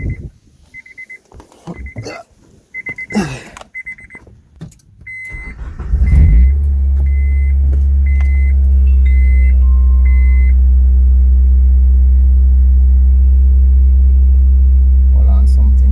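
A car engine cranks and fires, then settles into a loud, steady low idle drone through a DIY 3.5-inch cold air intake, after a stretch of handling noises and brief beeps.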